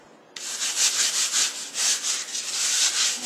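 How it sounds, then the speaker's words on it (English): Shortening rubbed by hand over a cake dummy, a steady close dry swishing that swells and fades in repeated strokes with no talk. "just rub that all over your cake dummy"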